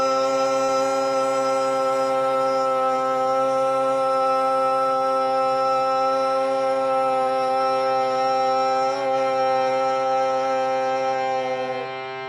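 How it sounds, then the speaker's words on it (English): A person hums one sustained, steady note on a long exhale during a breathing and visualization exercise, the tone even and close for about twelve seconds before easing off at the end. "we're going to exhale humming just to create the connection to the note."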